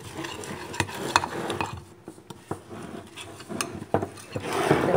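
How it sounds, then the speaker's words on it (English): Healthy muffin batter being stirred in a bowl for a microwave mug muffin, a close run of scraping, tapping strokes with uneven rhythm and brief pauses between them. "You could actually mix it in the cup or mug."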